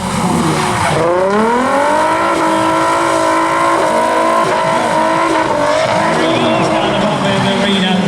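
A car engine roars and revs hard with tires squealing through sliding turns around an arena at the Bug Jam show, loud and close throughout, the pitch rising and dipping as it's thrown around.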